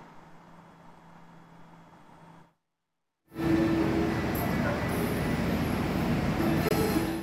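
A train at Tugu Yogyakarta railway station on a crowded Sunday midday, with a soft rumble that drops out briefly, then a louder burst of rolling wheels, wagon clatter and faint squeals over busy platform noise.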